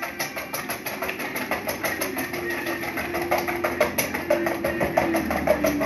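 A whisk beating three raw eggs in a bowl, with fast, steady, rhythmic clicking and scraping that stays close and even throughout, with no talking.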